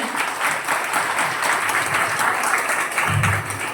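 An audience at a Marathi kirtan claps together in sustained, even applause that fills the room loudly for several seconds, with a brief low thump near the end.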